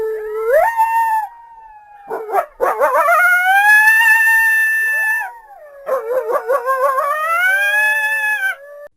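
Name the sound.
coyote howling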